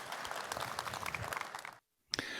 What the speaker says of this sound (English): Please give Andrew a lovely round of applause